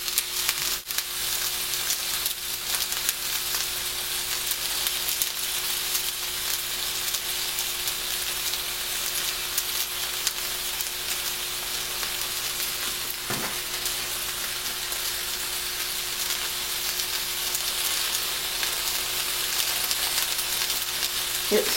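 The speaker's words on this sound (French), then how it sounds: "Donc là vous pouvez voir que ça commence à cuire, ça a changé de couleur." Chicken gizzards and onion fry in a pan over high heat, a dense, even sizzle that holds steady and fairly loud for the whole stretch, with one or two faint utensil knocks.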